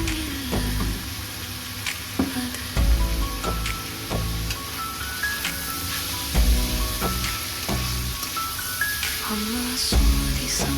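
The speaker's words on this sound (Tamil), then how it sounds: "எண்ணெயில் ஒரு 1/2 ஸ்பூன் மிளகாத்தூள் போட்டு அப்புறம் வதக்கணும்." Cluster beans frying in oil with chili powder in a Tamil-style stir fry, a continuous sizzle under rhythmic clinks and scrapes of a spoon stirring the pan, with background music playing; no speech.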